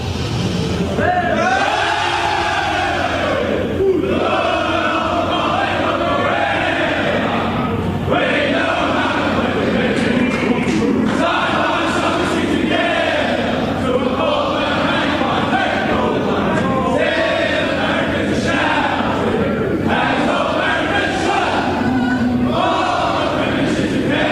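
Collingwood footballers and a large crowd of spectators, arms linked in the club rooms after a 2010 AFL qualifying final against the Western Bulldogs, sing the club song together as a loud, continuous group chorus for about twenty-four seconds.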